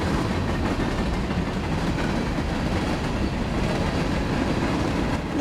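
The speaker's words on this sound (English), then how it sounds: "There's a lot of power on this train here," Freight train M364, pulled by five locomotives at roughly 50 mph, rolls past loud and close, a steady roar of engines and rumbling wagons with continuous clickety-clack from the wheels.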